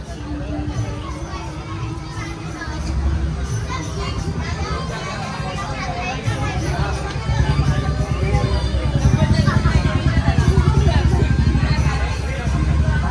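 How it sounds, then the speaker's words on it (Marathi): Crowd at a Sakharchauth Ganesh festival pandal in Pen, 2024: a continuous, close babble of many voices, children among them, holding steady throughout. "भरपूर गर्दी होते सगळ्याच मंडळामध्ये।"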